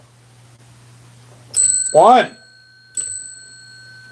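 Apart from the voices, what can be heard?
bell being rung by nose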